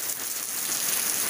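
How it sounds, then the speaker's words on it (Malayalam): Steady rain falls and patters on surfaces, a dense, even hiss that stays constant and close with no voices. "ഇതാണിപ്പോഴത്തെ മഴ"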